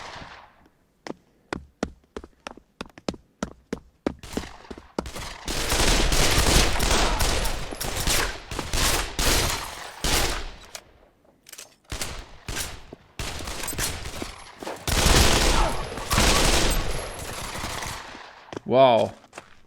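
Video game weapons fire in loud, close bursts, from single shots to long automatic volleys and dense rattling barrages, ending with a short tonal blip.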